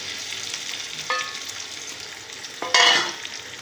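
Chopped onion and potato fry in hot oil while a utensil stirs them, a steady close sizzle with a couple of louder scraping stirs near the middle and end.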